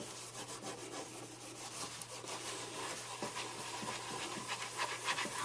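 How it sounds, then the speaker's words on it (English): Dry cloth rubbed briskly over the wooden cabinet of a Philco 48-250 radio, a steady, close, rhythmic scrubbing hiss of repeated buffing strokes heard on its own. "I'm going to buff this out really good with a nice clean, dry cloth."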